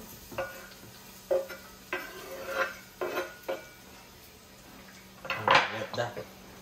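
Onions frying in a pan for channa fried rice, a faint sizzle under a series of clanks and scrapes of a utensil against the pan, ending in one louder knock, close by.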